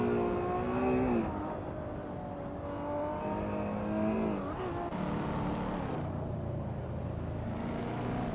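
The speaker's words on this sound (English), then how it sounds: "Bobardo, starting on pole, is driving a classic 1995 Dodge Viper RT10 in the retro supercar class" A 1995 Dodge Viper RT10 races in a video game, its engine droning loud and steady with shifting revs and gear changes throughout, other cars' engines blending in around it.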